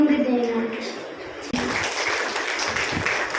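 An audience at a Brahma Kumaris Haldi Kunku gathering in Ulhasnagar bursts into broad, continuous applause after a short stretch of a voice speaking.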